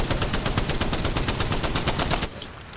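Spitfire fully automatic gun in Apex Legends firing a steady, loud, rapid burst of evenly spaced shots for over two seconds, then cutting off abruptly.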